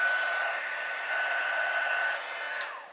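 A heat tool blows warm air under cardstock and a clear acetate sheet, a steady close whooshing hum with a faint whine that tapers off at the end.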